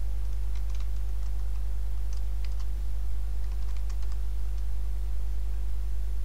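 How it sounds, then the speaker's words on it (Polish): Keys click in short bursts on a computer keyboard during a PowerPoint exercise, faint and close over a steady low electrical hum, with no talking. "naciskamy na klawiaturze klawisz Delete, aby usunąć zawartość"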